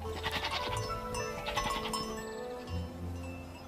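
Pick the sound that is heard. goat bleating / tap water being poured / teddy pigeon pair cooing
goat bleating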